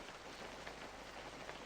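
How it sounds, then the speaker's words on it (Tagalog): Steady moderate rain falls outside a car on a rainy day in Bicol, a continuous even patter with no breaks. "Sa labas, umuulan."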